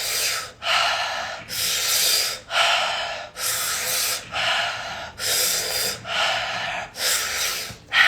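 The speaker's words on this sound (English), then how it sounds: "Making sure that you're breathing through an O-shaped mouth as fully and as fully," Deep, full breaths drawn and released through an O-shaped mouth, loud and close, in a steady cycle of long airy rushes separated by brief pauses, about eight breaths with no talk.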